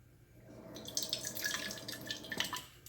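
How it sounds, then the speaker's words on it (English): Tap water running from a kitchen sink faucet into an empty aluminum soda can, a soft splashing trickle with bright dripping sounds, starting quietly and continuing steadily for a few seconds with no voices. "you're going to be filling only just a little bit with water from your sink"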